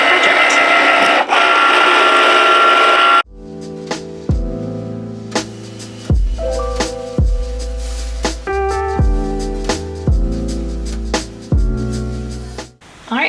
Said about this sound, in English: once the little Cricut flashes, we can click on that. And it will start cutting our project.